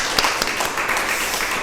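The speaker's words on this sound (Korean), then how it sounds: "우리 박수를 일단 환영하겠습니다" Congregation in a church applauding to welcome missionaries, a short stretch of steady, close clapping filling the room.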